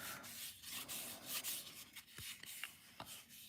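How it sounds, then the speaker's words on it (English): Hand sanding of a plastic part from an Airfix Concorde model kit, close and quiet, with short repeated rubbing strokes in an uneven rhythm and no talking. "keep on sanding that"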